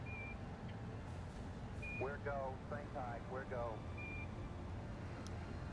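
In an Apollo 11 video game, the 1201 program alarm sounds as a few short, thin electronic beeps spaced apart, fairly faint under crackly radio voices and steady background noise.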